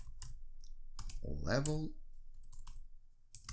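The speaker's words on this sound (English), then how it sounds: "So let's type that in." Someone enters an answer on a computer keyboard, with a few sharp key clicks at the start and end of the typing around steady spoken talk.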